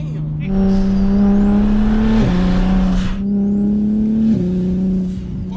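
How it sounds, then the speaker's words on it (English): A BMW 335is accelerates hard on low boost of about 14 psi. The loud, close engine rises in pitch, drops at two quick upshifts, and carries a thin turbo whistle. "Car feels a lot faster too, and it's on low boost right now."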